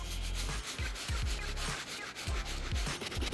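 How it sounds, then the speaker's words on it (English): A soft bristle brush scrubs white denim Jordan sneakers in quick back-and-forth strokes, a close, loud, rhythmic scratchy rubbing with no talk. "I'm gonna be using the soft bristle brush and the medium bristle brush"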